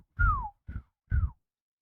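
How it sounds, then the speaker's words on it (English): Three short whistles sound as buttons are pressed in a video game, each a clear falling tone, the first longer and the next two quicker, alone against silence. "As you press each individual button, it whistles, like the mouth whistles"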